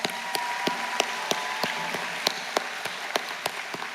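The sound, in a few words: audience applause for the class of 2024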